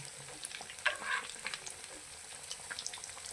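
Bread patties frying in a pan: a faint, steady sizzle with scattered light crackles and a soft scrape as they are flipped, no voices.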